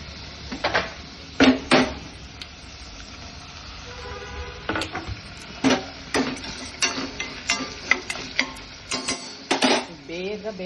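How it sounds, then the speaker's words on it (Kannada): Tomatoes go into a pan of cooked onions for a Kannada stir-fry of green gram and dill leaves, with repeated sharp spatula clacks against the metal pan over a soft sizzle, close and irregular. "ಇವಾಗ ಟೊಮೆಟೊ ಹಾಕೊಳ್ಳೋಣ."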